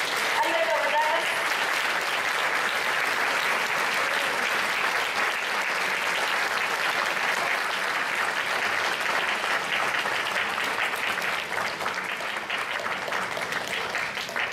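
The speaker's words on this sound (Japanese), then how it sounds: "改めてもう一度大きな拍手をお願いします" Sustained, loud applause from a large audience at a rally supporting a political candidate after her speech, a dense steady wash of clapping lasting throughout with faint crowd murmur beneath.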